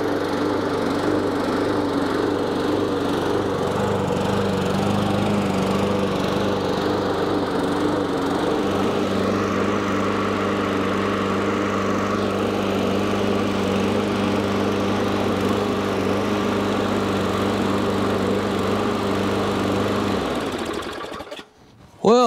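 A neglected small engine, likely a lawn mower with a primer bulb running on old fuel, buzzes steadily and loud after a pull start, its pitch settling partway through before it cuts off with a clunk at the end.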